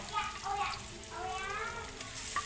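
Green chili and chopped tomatoes sizzle and fry softly in a pan as they are sautéed, a steady crackling hiss with faint stirring, heard close by.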